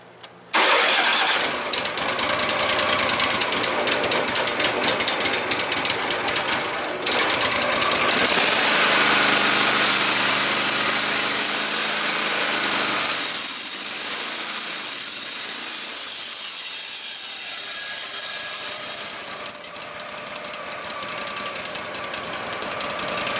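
A Wood-Mizer LT15 sawmill engine cranks and fires up, then runs at a loud steady drone with the band blade spinning, a high whine holding throughout before the pitch drops late on.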